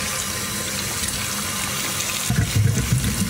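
Potatoes rinsed under running tap water, a steady rushing stream that turns splashier and more gurgling partway through as the water strikes the potatoes, close and alone.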